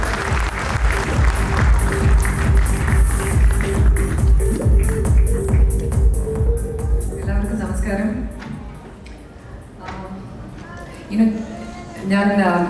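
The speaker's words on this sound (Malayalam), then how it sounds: "നല്ലൊരു കയ്യടി ഈ അവസരത്തിൽ വേണ്ടതാണ്" Loud, dense audience applause at a film's 60th-day celebration event, sustained for several seconds, then thinning out as scattered claps and voices take over near the end.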